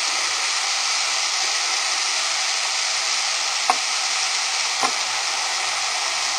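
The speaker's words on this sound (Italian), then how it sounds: "tre cucchiai di vino bianco secco, facciamo sfumare" Dry white wine sizzles hard as it deglazes a hot pan for a Neapolitan lasagna sauce, a steady loud hiss throughout broken by two faint clicks from a utensil.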